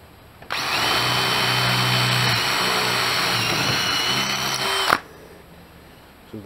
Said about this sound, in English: I'm also going to drill a hole right here in the corner